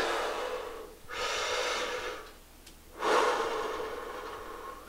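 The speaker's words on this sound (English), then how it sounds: "Just breathe. I'm breathing. Just breathe." A person draws deep, heavy breaths, audible in and out in about three long, close pulses with no talking.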